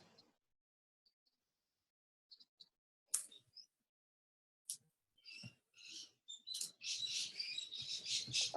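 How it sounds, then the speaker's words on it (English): Small birds outdoors chirping and tweeting, sparse thin calls at first, then a dense run of rapid high chirps near the end, fairly close and clear with no talk. "I can hear the birds all right."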